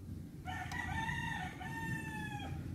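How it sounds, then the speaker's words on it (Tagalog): An asil (aseel) rooster crowing once on a farm, a long harmonic cock-a-doodle-doo lasting about two seconds, fairly close, over a low background rumble. "Napakagandang mga manok."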